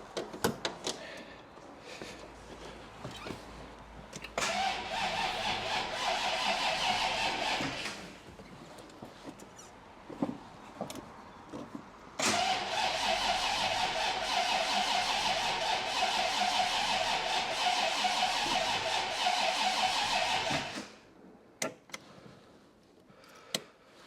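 Scrapped Bentley T MPW Convertible engine turning over: two long bursts of steady mechanical starter cranking, each several seconds, with clicks and knocks between, close and fairly loud.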